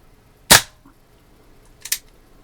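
Two sharp shots from a Daisy Red Ryder air pistol at 7 yards, each a brief crisp crack with a short fade, about a second and a half apart, the first louder and the second quieter and closer to a snap.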